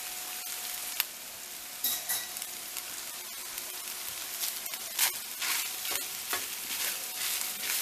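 Rice stirred into a sizzling pan for stuffed bell peppers, a continuous close hiss of frying broken by regular scraping and clacking strokes of a utensil, no talking.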